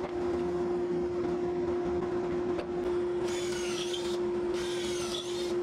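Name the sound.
drilling pocket holes in wood frame with jig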